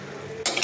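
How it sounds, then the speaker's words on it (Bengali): Almonds and sugar are stirred in a pan for candying, a short, close scraping rush that starts abruptly after a quiet moment. "ভালো করে চিনির সঙ্গে মাখিয়ে পাক দেওয়া আর কি"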